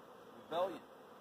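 A swarm of honey bees sounds as one brief, faint burst of buzzing with a rising then falling hum over quiet background, lasting well under a second, and no one speaks.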